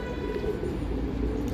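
Pet pigeons coo softly in a loft, a low repeated burbling under steady background noise, with faint bird chatter around.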